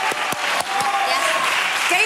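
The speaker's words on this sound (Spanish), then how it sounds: "Un aplauso, por favor, para este hombre." An audience claps for a man at a televised comedy show, a short burst of applause with a few sharp individual claps near the start, mixed with cheering voices.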